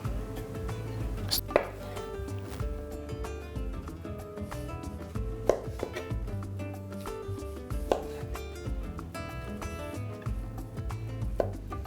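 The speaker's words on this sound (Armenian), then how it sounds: "Նույն կերպ կտրատում ենք մնացած կարտոֆիլը" Potatoes are chopped into roughly 1 cm slices on a board for a beef and potato casserole. Knife strokes land in a steady repeated rhythm over a constant background of music.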